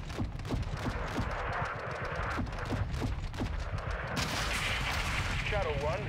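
Explosions and gunfire in the Modern Warfare video game campaign: a rapid run of sharp, booming shots and blasts, fairly quiet overall, with a radio-style voice talking partway through.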